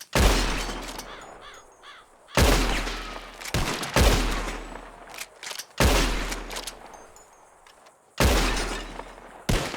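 Gunshots at a shooting contest in Red Dead Redemption 2, several loud single revolver blasts spaced a second or two apart, each with a long fading echo and distant crow calls between.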